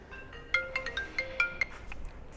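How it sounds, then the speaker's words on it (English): A mobile phone ringtone plays in a workshop, a short run of bright electronic notes in a lively rhythm, moderately near over a low background hum. "there's my phone"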